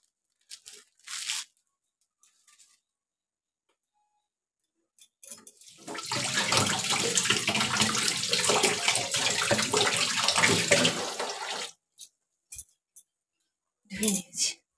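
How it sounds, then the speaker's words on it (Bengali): Guava being washed under a running kitchen tap: a steady rush of water for several seconds, close and fairly loud, with brief handling noises and short bits of talk before and after. "এটা ধুয়ে নিয়ে একটু ধুয়ে নিয়ে তারপরে"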